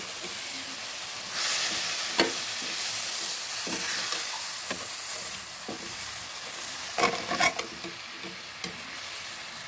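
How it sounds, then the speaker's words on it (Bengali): Semai vermicelli stirred with milk and sugar in a pan, a steady hissing, simmering wash broken by intermittent scrapes and clicks of the spoon against the metal. "এবার নেড়ে নেড়ে মিশিয়ে দেব।"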